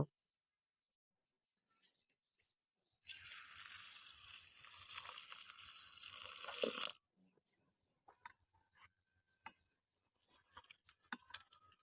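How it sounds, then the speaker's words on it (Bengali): Chopped banana flower pieces rinsed with water in a home kitchen: a steady, dense splashing wash lasting about four seconds, followed by scattered clinks and light handling noises, no talking. "এবার আমি মোচাগুলো জল দিয়ে ধুয়ে নেব"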